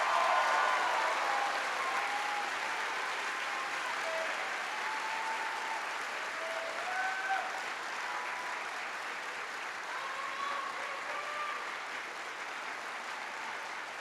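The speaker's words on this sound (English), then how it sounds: "Let's give a bigger round of applause to our Innovation Diploma graduates." Sustained applause from a large audience at a high school graduation for Innovation Diploma graduates, a dense even wash of clapping lasting the whole stretch with faint voices and cheers mixed in.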